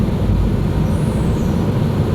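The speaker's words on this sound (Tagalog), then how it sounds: "Nauubusan ng hangin kasi may singaw sa ilalim." Steady broadband hiss of compressed air escaping from a leaking brake line under a bus or truck, continuous and fairly loud with a low rumble beneath, no talk.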